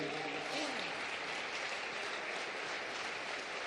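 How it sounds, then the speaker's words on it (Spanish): Loud, sustained applause from a church anniversary crowd fills the whole stretch, dense and steady without pause. "Un aplauso fuerte para mi hijo Ethan."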